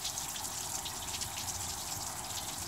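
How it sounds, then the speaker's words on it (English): Warm water rushes steadily from the hot-water side of a household plumbing line, hooked up to flush a truck radiator, making a constant broadband gushing hiss with no pauses. "here comes the warm water"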